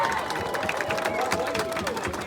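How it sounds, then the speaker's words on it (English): A crowd at a community event against racial injustice and gun violence applauds and cheers steadily, a dense, fairly loud wash with voices mixed in. "One more round of applause for Mr. March, y'all."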